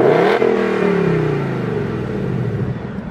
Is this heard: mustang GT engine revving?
yes